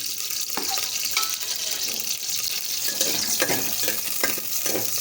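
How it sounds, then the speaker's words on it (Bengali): A spoonful of ghee with whole spices, cinnamon, cloves, cardamom and dried red chillies, crackles in hot oil for a chicken dish, giving a steady close hiss with scattered pops and stirring scrapes. "তেলের মধ্যে একটু 1 চামচ ঘি দিয়ে দিলাম, গোটা গরম মশলা, দারচিনি, লবঙ্গ, এলাচ, শুকনো লঙ্কা দিয়ে দিলাম"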